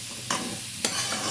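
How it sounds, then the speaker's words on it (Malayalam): Shallots and onions fry in a pan for a chicken curry, a continuous close sizzle broken by two sharp stirring scrapes, with no talking. "നമ്മൾ അതിലോട്ട് ഉള്ളി ഇടുക. ചെറിയുള്ളി, സവാള"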